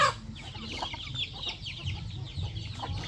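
Native chickens and chicks cluck and peep continuously on a provincial farm, with soft overlapping calls and a steady low rustle in the background.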